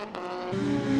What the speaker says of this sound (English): wonderful engine sounds going past the commentary box window